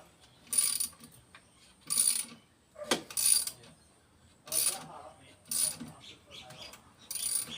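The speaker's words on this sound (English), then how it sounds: "I'm putting this bolt in a little bit sideways to help it, to hope that it pulls the pulley and the tensioner into the right spot" A bolt being worked into the AC tensioner pulley on a 1999 Subaru Liberty with an EJ251 engine, producing repeated metallic ratcheting bursts in short regular bouts with pauses between, close and fairly clear.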